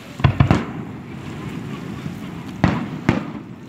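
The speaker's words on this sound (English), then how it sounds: "These fireworks are really big." Large Canada Day fireworks burst overhead, a few sharp loud booms in two clusters with rumbling echoes trailing off between them.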